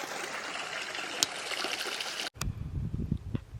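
A mountain stream on the Alta Peak trail in Sequoia National Park, the last water source before the summit, rushes and trickles steadily up close, then cuts to a quieter, gurgling patch of flow.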